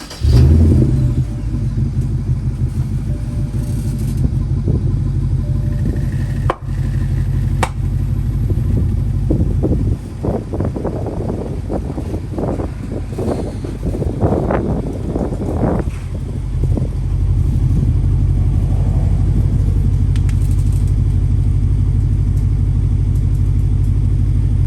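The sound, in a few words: BMW 550i Gran Turismo F07 engine starting and running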